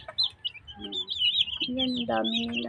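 Backyard chickens and chicks on a small poultry farm cluck and cheep nearby, with shrill peeping over lower clucks, while a person talks briefly.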